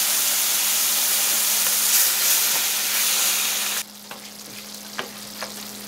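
Mushroom risotto rice sizzles loudly in a pan while being stirred, then the hiss drops abruptly as half a cup of white wine goes in, leaving quieter bubbling with a few light stirring clicks.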